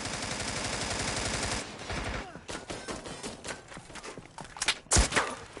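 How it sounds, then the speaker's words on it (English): Rapid bursts of gunfire from a video game shooter: a dense, continuous volley for the first second and a half, then scattered sharp shots and short bursts with a loud crack near the end. "He shot at me and went to shoot at someone else"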